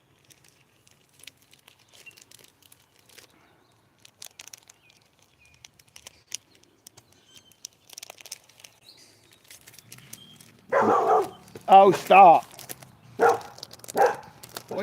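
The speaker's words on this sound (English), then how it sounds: "What are you barking at?" A dog barks several times close by after light tapping and rustling; a person speaks briefly over the barking.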